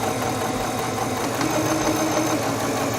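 A quilting sewing machine runs forward along a fabric seam, a steady close mechanical hum with a fine rapid stitching texture and no pauses.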